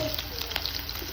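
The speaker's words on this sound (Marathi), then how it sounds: "आणि छान आता तेलामध्ये आपण जिरं मोहरी एकत्रच टाकते मी फोडणीसाठी" Cumin and mustard seeds sizzle together in hot oil for a tempering, a close, steady bright hiss with small crackling pops throughout, no talking.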